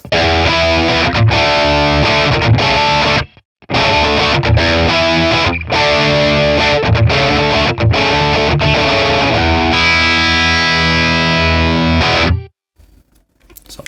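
Overdriven electric guitar through a Matchless Laurel Canyon 20 watt amp with reverb off, strummed chords and riffs in loud bursts with short gaps, ending on a ringing chord that cuts off.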